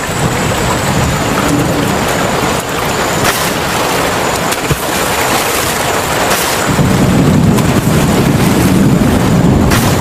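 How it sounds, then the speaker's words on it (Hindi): Heavy rain pours steadily in a cartoon storm, a dense hiss of drops on surfaces with a low rumble of thunder swelling louder toward the end, no voices present. "बहुत तेज बारिश हो रही है।"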